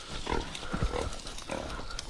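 A pig on a hog-hunting trip grunts and snorts close by in short rough bursts, over a noisy outdoor background with no talk.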